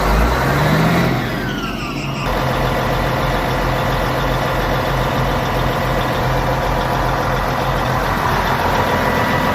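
A vehicle engine starts after transmission pump work, a brief cranking surge, then settles into a steady, loud, low idling rumble that continues evenly throughout, with no talking.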